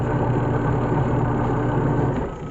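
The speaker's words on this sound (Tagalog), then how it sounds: "Tingnan nga po natin kung umaandar nga po ang kanyang wash. maandar nga po" The motor of a washer-dryer machine runs during a troubleshooting test, giving a steady, close, low humming drone with a constant pitch, which eases slightly near the end.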